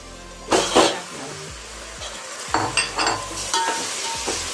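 Mutton with turmeric sizzles in a pan for mutton sukkha while a spoon stirs it, producing several loud, scraping bursts of stirring over a continuous close frying hiss.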